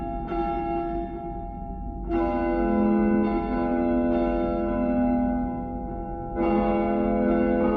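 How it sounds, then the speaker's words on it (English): A large church bell in a video game rings the evening Angelus, several resonant strikes with long humming decays overlapping, loud and alone with no voices. "I heard the ringing of a large bell. It must be the evening Angelus."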